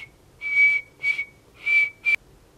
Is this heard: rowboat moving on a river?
no